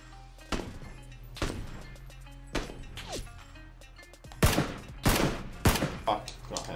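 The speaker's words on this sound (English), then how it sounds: "Oh! We're getting shot." Sharp gunshots and bullet impacts strike a squad in PUBG, several loud isolated cracks spaced apart, then a quicker cluster of hits near the end, with players talking underneath.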